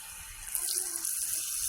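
A steady, faint hiss of ripe mango batter for puli pitha sizzling in hot oil, with a continuous bubbling crackle and no talking.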